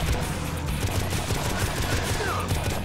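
Rapid, dense gunfire from a player's weapon in the video game Painkiller, a continuous loud roar of shots with no gaps, heard alone without talking.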